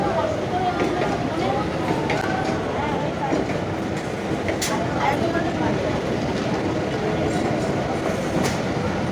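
Sealdah-Ranaghat Matribhumi Ladies Special commuter train running, heard from inside a carriage as a steady rumble and rattle of wheels on track, with faint clicks and a voice now and then.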